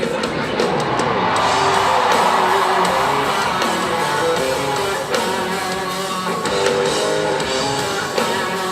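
Country concert crowd at a live show, screaming and cheering on cue, a dense sustained roar from many voices that swells early and holds loud throughout with scattered shouts and whoops.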